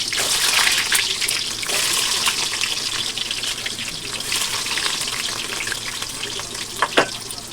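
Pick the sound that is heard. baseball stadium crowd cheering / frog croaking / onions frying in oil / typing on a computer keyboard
onions frying in oil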